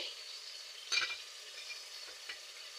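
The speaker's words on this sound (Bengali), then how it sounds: "মশলাটাকে এবার আমি ভালো করে কষিয়ে নেব" Spice masala with ginger-garlic paste, turmeric and cumin stir-fried in a pan for Bengali pabda fish curry, giving a steady soft sizzle with a brief louder scrape of the spoon near the start and faint stirring taps later.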